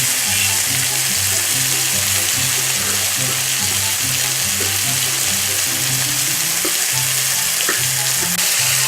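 Morel mushrooms heat in a very hot, smoking pan, giving a loud, steady sizzle that runs unbroken from start to finish.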